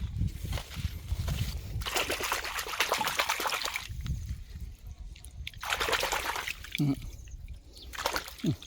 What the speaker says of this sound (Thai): นี่ผมไปล้างน้ำนิดนึงนะ